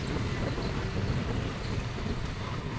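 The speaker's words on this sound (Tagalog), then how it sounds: "Kaya medyo pangit ang background mga boss, medyo may hangin." Strong wind roars and buffets across the microphone while riding a motorcycle near a national highway in Laguna, a dense, continuous rushing noise with no break.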